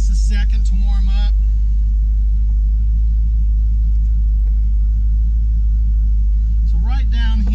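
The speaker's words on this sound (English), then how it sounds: "all I gotta do is crank the key real quick. Give it just a second to warm up" A carbureted 1970 Chevy Suburban engine idles in a loud, steady low rumble; someone talks briefly at the start and again near the end.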